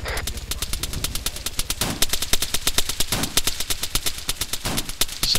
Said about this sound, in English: Spook, shoot it with your LMG. Small arms fire, that's gonna kill.